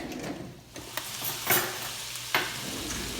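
Stirring in a pan as a butter roux for Cajun shrimp and grits gets started, soft sizzling under a few sharp scraping and clinking strokes, fairly quiet and close.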